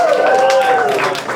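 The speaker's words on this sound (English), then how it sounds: "Let's clap for him." Audience applause at a geography meetup talk in Washington, DC, a steady wash of clapping from a roomful of people, with tonal cheering or voices mixed in throughout.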